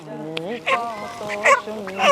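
A live chicken handed over as an Eid gift gives repeated loud, honking fowl calls close by, mixed with people talking.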